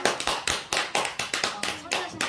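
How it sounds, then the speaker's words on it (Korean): An audience at a church New Year's Eve service claps in encouragement, a rhythmic run of about ten distinct, fairly close hand claps at a steady pace, with a voice mixed in. "자, 격려의 박수를 한번 쳐주세요."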